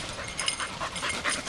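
An excited search dog wearing a bell pants in quick, breathy bursts close to the microphone, with a faint high jingle running through the short stretch.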